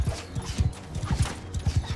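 Donkey hooves clip-clopping steadily across a dusty field in the medieval combat game Mount & Blade II Bannerlord, a quick rhythmic trot of muffled thuds, close and continuous with no talk.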